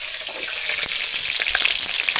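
Loud, steady sizzling of salay bata and emperor fish frying in hot oil, crackling and spattering continuously up close.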